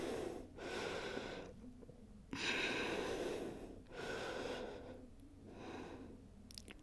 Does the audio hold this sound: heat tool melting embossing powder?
no